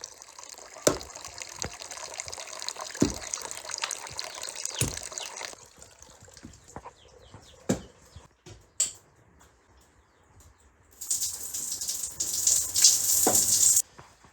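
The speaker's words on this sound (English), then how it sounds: "a hot shower after a day of hiking a dusty trail really hits the spot" Hot shower running in a trek lodge, water splashing and spattering unevenly with sharp drips and knocks, then a louder, steadier gush of spray near the end.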